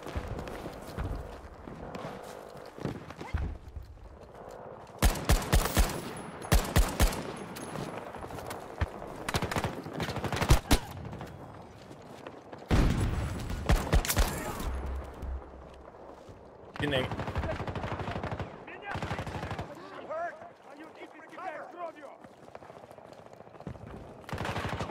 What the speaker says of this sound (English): Hear that gun.